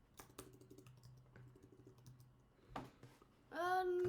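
Rapid clicking of typing on a computer keyboard, close and moderately loud, in bursts over a low steady hum, ending in a louder tonal sweep.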